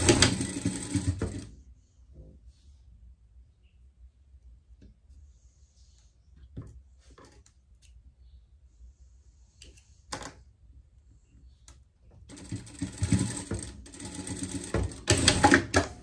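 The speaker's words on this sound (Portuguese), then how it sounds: "E passo uma costura aqui. Uma forma da costura francesa, né?" A sewing machine stitches a French seam on a girl's pair of panties, running in a short burst at the start, falling quiet with a few faint clicks, then running again in a longer, louder stretch near the end.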